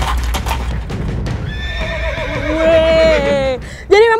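Wild horses neigh loudly and repeatedly at close range, the whinnies rising and falling over a busy churn of hooves and movement, with a final sharp squeal near the end.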